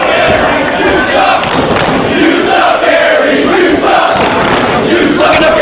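Dense wrestling arena crowd roaring and chanting throughout a match, a loud continuous wall of massed voices with rising shouts and occasional thuds.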